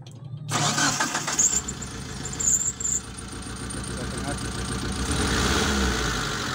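A Mitsubishi Colt T120 SS fuel-injected engine cranks briefly, then catches and starts, settling into a loud, rough, misfiring idle that keeps running; no talking.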